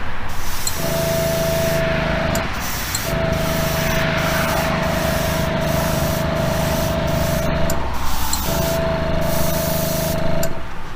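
A paint spray gun lays a wet coat of candy paint onto a custom Hot Wheels Bone Shaker model, giving a steady close hiss over a humming compressor tone that cuts out briefly twice.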